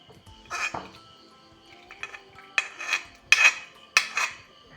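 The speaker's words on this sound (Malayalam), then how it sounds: "നന്നായിട്ടൊന്ന് മിക്സാക്കി കൊടുക്കാം." A spoon clinks and scrapes against a bowl while stirring an egg and carrot snack batter with dissolved sugar, in a few separate bursts of brisk mixing.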